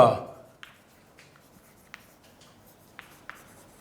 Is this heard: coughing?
no